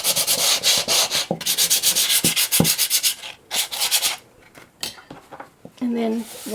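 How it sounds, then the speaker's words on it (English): A wooden bowl being sanded by hand, repeated rapid scratchy rubbing strokes in quick bursts, close and fairly loud, pausing briefly before a few more scrapes and a soft thud near the end. "if it's wooden, you're going to sand it."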